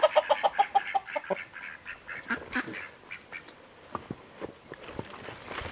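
A flock of Icelandic chickens squawks and clucks nearby, opening with a quick run of evenly spaced calls that loosens into scattered, uneven clucks and squawks, with no talk.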